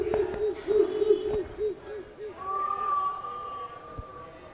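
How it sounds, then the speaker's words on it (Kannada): Screeching bird calls used as a sound effect in a staged Ramayana drama: a wavering, hooting owl-like cry repeats in short pulses, then a long steady shrill tone follows over faint background. "ಕಾಗೆ ಗುದ್ದಾದಿಗಳ ಚಿತ್ಕಾರ ಧ್ವನಿ ಕೇಳು ಬರುತ್ತಿದೆ."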